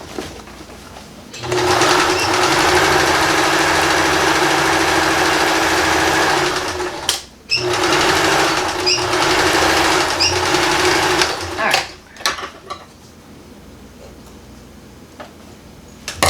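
A sewing machine stitching a sling purse made from recycled denim jeans runs in a loud, close, continuous whir for several seconds. Brief pauses break it, then it stops and leaves quiet room tone.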